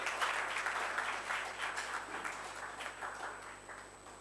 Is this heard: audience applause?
yes